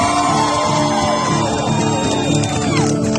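Audience at a live concert in Salem, Massachusetts, cheering, whooping and yelling loudly as one continuous roar, with music and voices mixed in.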